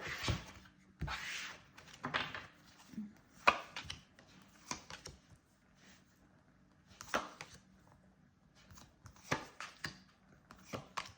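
A tarot deck is cut and handled by hand, giving a series of short, crisp card snaps and shuffling taps spread irregularly across the span, close and fairly quiet with no talking.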